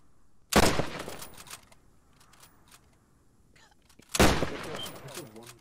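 Gunfire in a video game battle: two loud, close blasts about four seconds apart, each followed by a fading rumble, with quieter clicks and faint voices between them.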